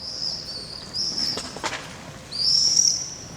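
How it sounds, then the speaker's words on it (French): Thin high-pitched calls of city birds, a couple of drawn-out whistles a moment apart over a quiet background. "Et l'on put entendre se mêler au chant des oiseaux citadins"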